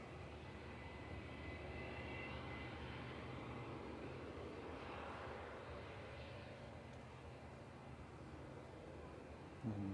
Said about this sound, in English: Fifteen-year-old Airbus A321.